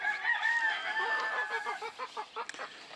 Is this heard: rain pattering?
no